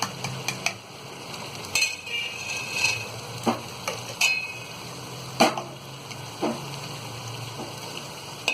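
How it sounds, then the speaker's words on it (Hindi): Lentils being tipped into a pot of mutton korma for haleem, with scattered clinks and scrapes of a spoon against the pot over a soft background sizzle, no talking. "तो अब हम इसमें कोरमे में ये दालों को डाल देंगे"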